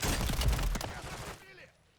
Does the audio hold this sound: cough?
no